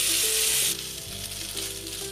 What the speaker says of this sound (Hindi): हमने आलू को 2 मिनट भून लिया है,